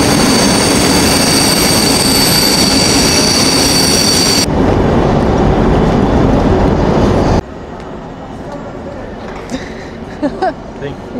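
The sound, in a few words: riding a train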